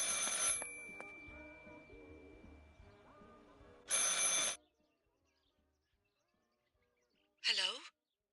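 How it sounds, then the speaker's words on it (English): A telephone rings in the video game Martha is Dead, with two bright, harsh ring bursts separated by silence and a quieter music or ambient bed at the start. "I should pick up the phone but remain silent."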